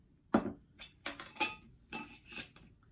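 A spoon stirring spices in a bowl, five or six close, light clinks and scrapes spaced about half a second apart.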